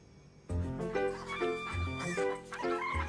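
Chickens' sounds start abruptly after a short quiet moment, with steady, tonal clucking and calls continuing near and fairly loud, in a cartoon.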